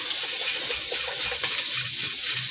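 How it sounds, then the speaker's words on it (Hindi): Rice poured into a pot of boiling water for white chickpea curry and rice, giving a steady close watery rush with soft pattering and bubbling throughout, no voices. "इसमें ये सारे चावल डाल रही हूँ"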